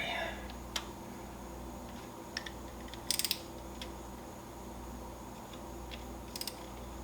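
A ratchet torque wrench tightens camshaft bolts on a 2016-or-later Mazda Miata in a quiet workshop setting, giving several faint, sharp clicks and ratcheting ticks spread out over a steady low background hum.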